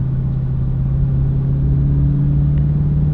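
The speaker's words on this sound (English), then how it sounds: "the sound of the car definitely sounds aggressive. You can hear it like growling" A 2022 widebody Dodge Charger Hellcat's engine growls in a steady, deep, loud rumble, heard from inside the car for the whole stretch with no talking.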